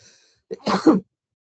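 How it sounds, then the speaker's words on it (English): A single sneeze, close and fairly loud, with a short sharp intake of breath before the burst; silence follows. "I'm gonna sneeze."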